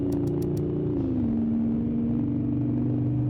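A 2007 Mercedes W124 car drives at speed with a steady, loud engine drone that dips slightly in pitch, continuous road and engine noise throughout.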